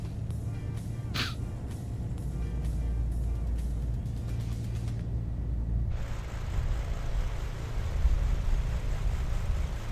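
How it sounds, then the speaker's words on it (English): Simulated airplane engine in a flight simulator during approaches into Minneapolis airspace, a steady low droning hum with a broadband rush that thickens and grows slightly louder in the second half. "Love the sound of this plane."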